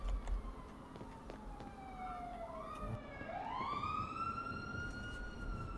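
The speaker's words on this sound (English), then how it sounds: "Hey, police car." Police car siren in a GTA roleplay game, a wailing tone sweeping down then rising sharply and holding high, loud and steady over the game's engine and street noise.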